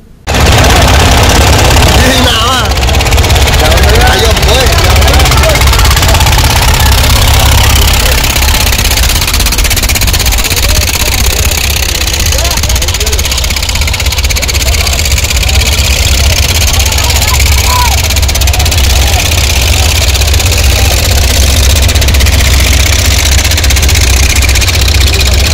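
Motorboat engines roar loudly and continuously with a rattling, knocking edge during a village boat race at Balusutippa, and people talk over the noise.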